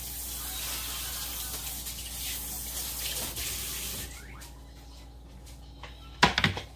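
A tomato is rinsed under a running kitchen faucet, a steady hiss of water that stops partway through, followed by a brief clatter near the end.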